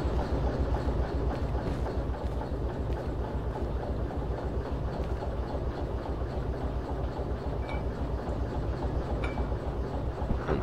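A heavy freight train in the Derail Valley simulator rumbles steadily as its brakes are applied, a continuous loud rolling drone with rhythmic clatter and faint squeal tones, no talk.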